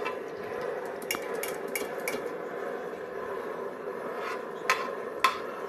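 Garlic browning in a pan on a stove, a steady moderate sizzle running throughout with occasional sharp metallic clinks of a utensil against the pan.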